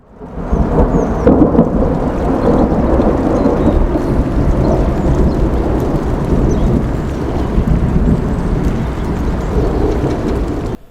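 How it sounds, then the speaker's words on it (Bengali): Heavy monsoon rain pours steadily with deep rumbling thunder rolling underneath, a loud, continuous evening storm at Sittong near Darjeeling with no voices. "শুরু হলো বজ্র বিদ্যুৎ সহ প্রবল ঝড় বৃষ্টি"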